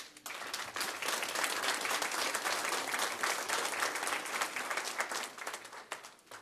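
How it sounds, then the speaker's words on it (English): Sustained applause from a crowd at a city council meeting, dense and steady throughout, fading slightly near the end. "Round of applause, please."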